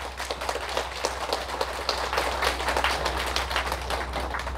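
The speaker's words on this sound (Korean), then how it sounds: "지금 박수 2번째밖에 안 나왔습니다" Lecture audience applause, a scattered patter of hand claps in a hall over a steady low electrical hum, moderate and continuous with no voices.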